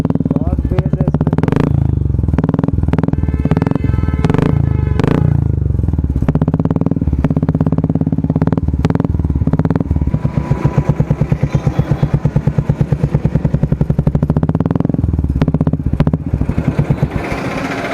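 Royal Enfield Classic 350 BS6 fitted with a bass-heavy Cobra aftermarket exhaust, revving close up: deep, loud thumping exhaust pulses with repeated blips, settling into a rapid steady putter in the second half.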